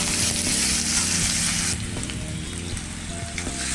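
Coarse soybean kheema paste sautés in hot oil in a pan, giving a loud, dense, continuous sizzle that eases slightly partway through, heard up close with no voices.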